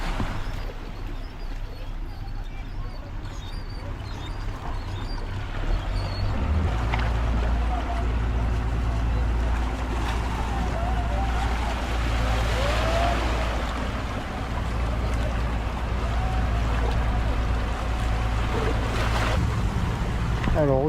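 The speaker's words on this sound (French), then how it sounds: "on a la barge, le traversier qui arrive d'en face" A car ferry barge arriving at Tibau do Sol, Brazil, with a low engine drone that deepens and strengthens partway through, over water and wind noise, with faint voices in the background.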